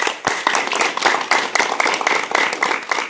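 Clapping rings out for Sitamarhi district administration officials at a village cleanliness training, with dense, steady applause from a nearby group of hands and sharp individual claps throughout.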